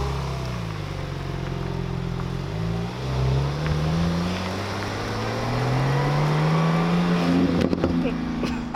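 A Porsche GT2 RS with the Weissach package accelerates away, its engine note climbing through gears as it pulls off, loud at first and then more distant.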